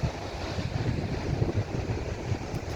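Sea waves and wind at Lalla Fatna beach make a steady, full roar of surf with wind buffeting the microphone, continuous and close, with no voices.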